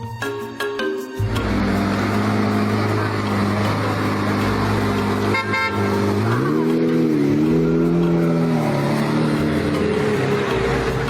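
A Lamborghini Reventon sports car engine revs loudly and continuously, its pitch swelling and bending upward midway before holding at a steady high drone, with no talking over it.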